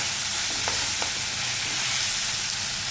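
Coriander leaves and tomato sautéing in a hot pan give off a steady, close sizzle that hisses without pause, with a couple of faint stirring scrapes and no voices.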